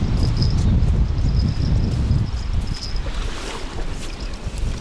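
Steady wind buffets a river bank during a fishing session, a continuous low rumble of gusts against the microphone with faint insect chirps and a thin high whine running through, easing slightly toward the end.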